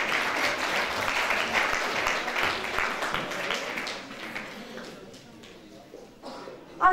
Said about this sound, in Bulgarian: Моля, аплодисменти за доктор Тошко Иванов.